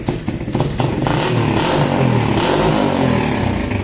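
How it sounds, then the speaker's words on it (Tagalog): A motorcycle engine runs steadily and close, a continuous rumbling idle with some clatter that holds without pause from start to finish. "Naandar na yung ating motor"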